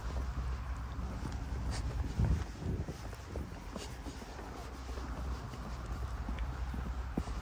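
Horse hooves clip-clop steadily during a winter ride on a farm, close and moderately quiet, with wind buffeting the microphone throughout.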